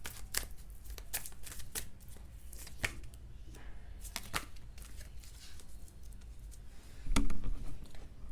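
Tarot cards shuffled by hand at close range, a run of quick crisp riffling snaps and soft slides during a reading, ending with a heavier handling rustle near the close, no speech.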